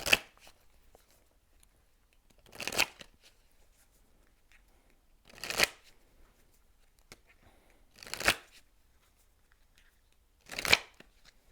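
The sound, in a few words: shuffling oracle cards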